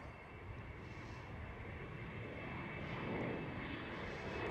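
A KLM Cityhopper Embraer E190 jet departs Amsterdam Schiphol, its engines a faint, distant, steady roar that builds slightly toward the end.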